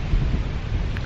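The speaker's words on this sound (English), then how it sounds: "it's windy" Steady low rumbling wind on a hill buffeting the microphone, constant and fairly loud throughout with no voices.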